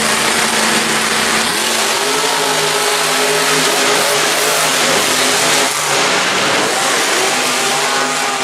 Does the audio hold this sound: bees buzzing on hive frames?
no